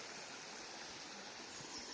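The River Mag in West Yorkshire, a controlled river lined with cut stones, flowing with a steady, faint rushing hiss and no voices.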